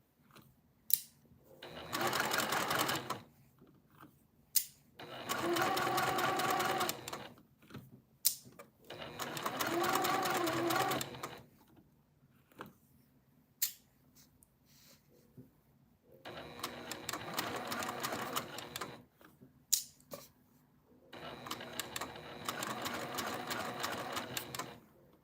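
A home sewing machine stitches over pinned fabric in repeated bursts of steady mechanical whirring, about four runs separated by pauses filled with brief clicks and handling noises, close by.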